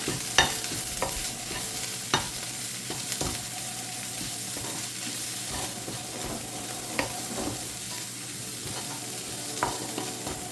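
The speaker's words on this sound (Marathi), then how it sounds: "मसाला धणे जिरे पावडर मिर्च पावडर हे मसाले आपण कांदा आणि तेलावर चांगले परतून घेऊया" Turmeric, coriander-cumin powder and chili powder sauté in onion and oil for an egg masala gravy: a steady close sizzle broken by repeated scraping clicks of a spoon stirring the pan.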